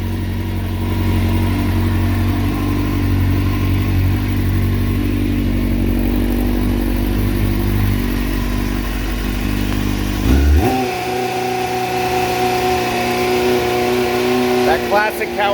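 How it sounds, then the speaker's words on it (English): Engine of a 2000 Suzuki GSX 600 R sport bike idling loud and steady, then the clutch pulls in and a high gear whine rises over a lighter hum, with a few quick revs near the end. "that whine that you get from a Japanese bike. This has got it."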